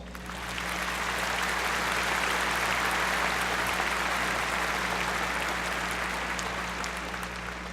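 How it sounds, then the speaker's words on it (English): A large crowd applauding at a college commencement, the clapping swelling in over the first second and then holding as a broad, sustained wash, with a low steady hum beneath and no speech. "Please recognize them with a round of applause."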